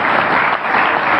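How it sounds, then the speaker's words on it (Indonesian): A crowd at an Islamic religious lecture claps loudly and densely, a short, continuous burst of applause filling the space, close and full throughout. "Tepuk tangan."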